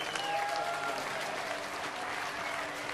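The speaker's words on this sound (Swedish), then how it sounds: "Ska vi ge Jesus en applåd till Gud?" A church congregation at an evening worship service gives a steady, moderate round of applause, many hands clapping evenly with a faint tone and some voices underneath.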